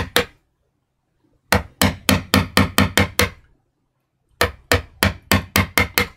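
A hammer striking a metal-ringed chisel: one sharp blow, a pause, then a rapid series of about seven loud, evenly spaced whacks, another pause, and a second burst of six more, close and with no talking.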